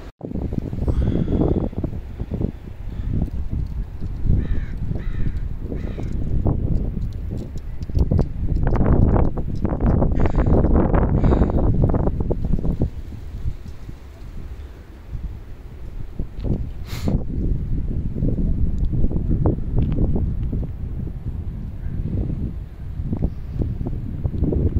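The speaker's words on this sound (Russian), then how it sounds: "И довольно ледяной ветер сегодня." Icy wind on a sunny day outdoors in Vancouver buffets the microphone in heavy, low rumbling gusts that rise and ease over the whole stretch, loud and close, with faint rustling mixed in.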